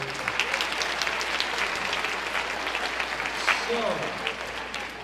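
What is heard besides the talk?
audience applause at a school freshman acceptance event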